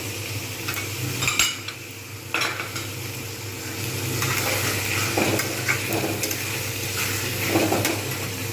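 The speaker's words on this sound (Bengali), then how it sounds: "এগুলো কিন্তু আমি প্রত্যেকটা ভালোভাবে ভেজে নেবো ভেজে নিলে তাহলে কিন্তু টেস্ট খুব ভালো আসে" Potol and potato pieces fry with tomato in a pan for fasting khichdi, a steady sizzle under scattered scrapes and clinks of a spoon stirring against the metal, heard up close.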